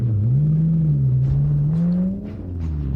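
A car engine revs up hard in a tense chase, a loud rising roar with climbing pitch that peaks and then drops briefly before building again, close and continuous with no talking.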